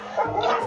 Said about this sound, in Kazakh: Басқа біреудің иттер келе атыр, екеу.